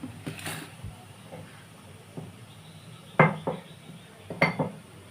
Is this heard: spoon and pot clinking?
yes